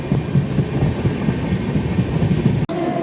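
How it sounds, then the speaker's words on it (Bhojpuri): A long-distance train between Ara and Mumbai rattles along the tracks in a steady rhythmic clickety-clack. The wheel noise is loud and close, with a continuous low rumble and no speech. "ट्रेन के जौन मीठ आवाज होला जो सदियों से चलत आ रहा बा डुकी डुकी डुकी डुकी"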